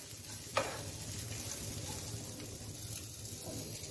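Food is stirred in a pan on medium heat, giving a soft, continuous sizzle with a faint scrape or tap near the start, quiet and close, with no voices.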